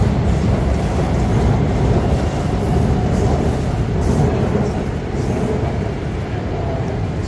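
Train pulling out of a station in Bangkok: a steady, moderately loud rolling rumble with a broad hiss of wheels on rail that carries on continuously, with no talk.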